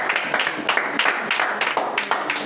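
Church congregation clapping and cheering in praise after a French sermon, a dense, continuous wash of applause with rhythmic hand claps throughout.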